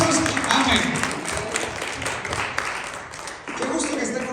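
A church congregation applauds during a Sunday morning service, a sustained wash of clapping that swells and dips for several seconds while a voice carries over it.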